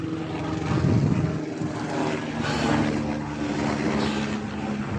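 A helicopter's steady mechanical drone with a rhythmic rotor throb passes overhead in the Himalayan mountains near Everest base camp, fairly loud and swelling at moments, with no clear talking.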